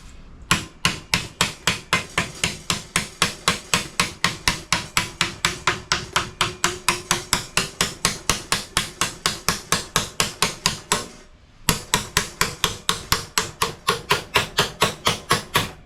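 Hammer strikes during old car restoration work, a long fast run of sharp, loud, evenly spaced blows close by, with one brief pause before the steady rhythm resumes.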